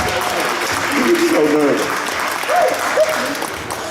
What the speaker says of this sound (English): Can we give them another round of applause to hype them up?